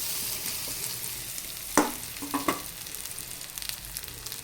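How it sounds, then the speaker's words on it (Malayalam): Chopped plantain frying in hot ghee, a soft steady sizzle broken by a few quick spatula scrapes and taps near the middle. "സെയിം നെയ്യിലേക്ക് തന്നെ നമുക്ക് ഈ പഴം അരിഞ്ഞിട്ട് കൊടുക്കാം."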